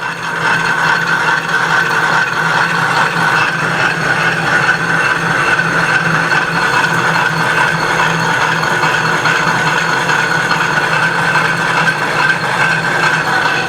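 A machine cutting a come-about boat tiller head part at coarse feed and about 12,000 speed, giving a loud, steady, unbroken whine and grind that holds constant throughout.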